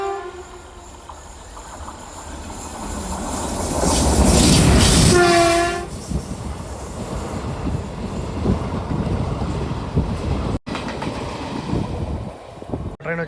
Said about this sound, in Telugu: చామ్నార్ నగర్ ఎక్స్ప్రెస్ అయితే క్రాసింగ్ అయితే పడింది